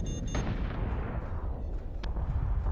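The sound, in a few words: gunfire hitting ship in Battlestar Galactica Deadlock video game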